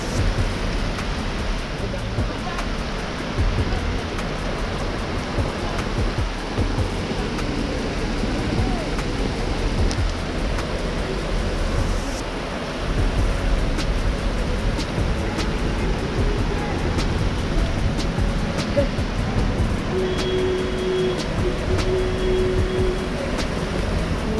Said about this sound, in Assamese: জোৰে বৰষুণ দি দিছে দেই ইয়াতে আৰু এই সব পানীবিলাক টুক টুককৈ পৰি আছে